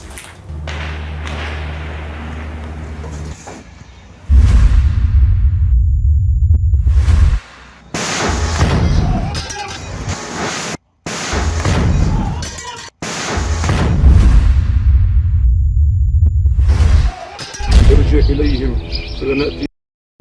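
Rocket-propelled grenade fire in Rafah: several loud, sharp blasts with whooshing tails burst out in turn, separated by brief quieter gaps, with voices shouting around them.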